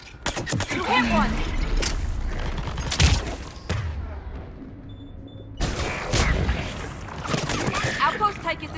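Gunfire and combat in Mass Effect 3, a sci-fi shooter video game: sharp shots and bursts with impacts and booms, loud and close, mixed with voices calling out during the fight.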